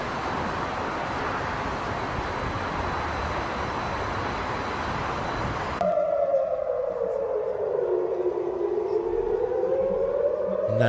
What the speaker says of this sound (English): they've got sirens going on